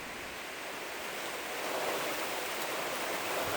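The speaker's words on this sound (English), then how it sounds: "we've got a storm coming through." Storm rain and wind rush as a steady, dense broadband roar, close and unbroken, with no voices.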